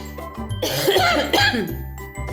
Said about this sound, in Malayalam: ചുമയാണ് കേട്ടോ ചേച്ചിക്ക് പനിയൊന്നും വിചാരിക്കണ്ട